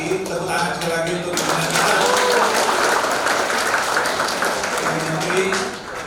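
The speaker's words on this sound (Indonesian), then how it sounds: "tepuk tangan sekali lagi" An audience at a town hall meeting breaks into applause, dense rolling handclaps that swell for several seconds and then taper, with speech heard around them.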